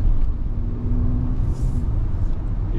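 Bentley Bentayga SUV turning tightly through a U-turn, heard from inside the cabin as a steady low engine and road rumble, smooth and continuous with no talk.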